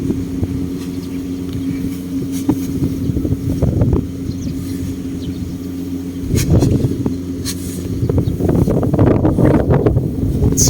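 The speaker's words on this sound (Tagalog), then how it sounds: "It's so windy here." Wind buffets the microphone outdoors at a chicken farm in the Philippines, making a low, rumbling roar that swells in strong gusts toward the end.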